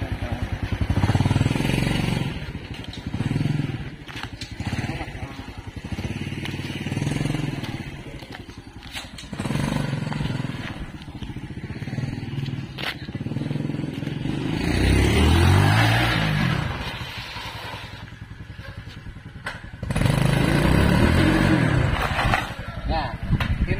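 A Honda 125 cc engine powering a three-wheeled motorcycle cart on a test drive, its steady running drone rising and falling with throttle under ongoing talk, with occasional clatter.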